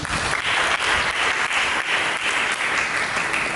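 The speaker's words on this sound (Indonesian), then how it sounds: "Mari kita berikan tepuk tangan." Steady, dense applause from a church congregation during a sermon, many hands clapping in a continuous loud wash with faint rhythmic pulses and no voices over it.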